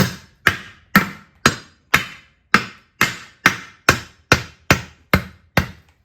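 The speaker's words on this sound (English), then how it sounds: "we're going to take the hammer" A hammer strikes a military steel wheel's safety ring about a dozen times in a steady, even rhythm, each knock sharp and ringing briefly, close and loud with no talking.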